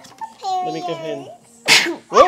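A person sneezes twice in quick succession, loud and close, right after a stretch of casual talk during a Pokémon card pack opening.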